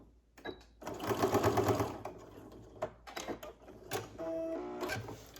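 A sewing machine back-stitches the end of a faux fur plain seam, loud bursts of rapid mechanical stitching separated by short pauses and shifts in pace.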